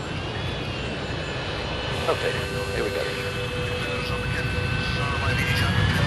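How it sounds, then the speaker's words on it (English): A DHL Boeing 757 cargo jet prepares for takeoff at Bergamo, Italy, heard as a steady engine roar and whine that fills the clip while someone speaks briefly over it. "another plane was preparing for takeoff at Bergamo in Italy"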